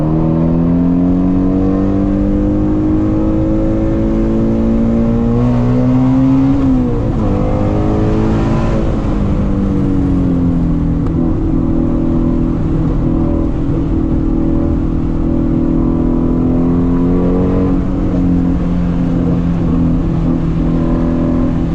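A Shelby GT350 Mustang engine revs high while being driven hard, a loud, steady, close-up mechanical roar with rising and falling pitch held for a long stretch, no voices.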